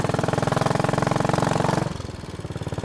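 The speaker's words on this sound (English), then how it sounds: "Runs so well, it's so crisp, and at the right rev range it thumps just like a Chinook going along." A motorcycle engine runs with a steady, crisp thumping beat, loud and close, then drops to a softer, slower idle-like pulse partway through, with no one speaking.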